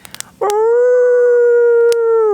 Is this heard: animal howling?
yes